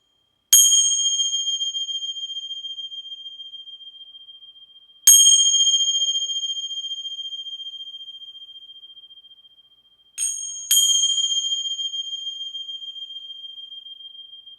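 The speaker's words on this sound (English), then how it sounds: "I'm gonna ring some bells and connect, see what comes through here" Three separate bell strikes ring out alone in a quiet space, each a bright sustained ding that slowly decays over several seconds; the third is a quick double strike.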